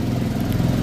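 A Royal Enfield Meteor 350 motorcycle idles close by on a Shimla ride, a steady low single-cylinder thump holding even for under a second with no voices.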